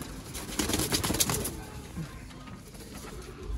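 Sialkoti pigeons with red pearl eyes and red cheeks coo softly in a loft, with a brief flutter of wings early on and a steady murmur of background noise throughout.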